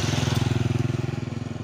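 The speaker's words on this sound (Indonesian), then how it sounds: "Untuk kelistrikan yang kali ini memakai genset ada di sana." Genset generator powering electricity at an outdoor sound-system event, a close, loud engine drone with a fast, steady pulsing throb throughout.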